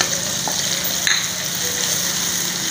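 A spice paste of chili, ginger-garlic paste, crushed coriander and turmeric fries in a pan for egg korma, making a loud, even, close sizzle with a brief scrape of stirring partway through.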